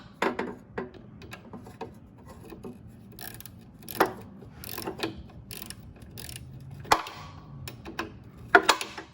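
Socket wrench ratcheting on the oil plug of a General pump in tight quarters, with short quiet clicking bursts and metallic rattles spread irregularly, faint and close.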